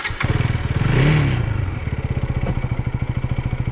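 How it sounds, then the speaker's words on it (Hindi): A KTM Duke 250 motorcycle, freshly serviced with new oil, idles with a steady rapid thumping pulse up close, with a brief rev swelling in the middle before it settles back to an even idle. "सर्विस करने के बाद में सब ऑयल सब चेंज करने के बाद में ना गाड़ी का फायरिंग में बहुत सारा चेंज आया गया है"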